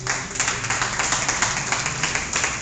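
A church congregation claps together as an offering of praise to the King, making dense, continuous applause with a loose rhythmic pulse, fairly loud and close, with no speech.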